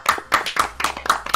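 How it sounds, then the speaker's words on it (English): An audience claps at a Super Mario Sunshine 2v2 lockout bingo tournament grand final, a short burst of about six sharp, evenly spaced claps, close and alone. "Yes, let's have some claps."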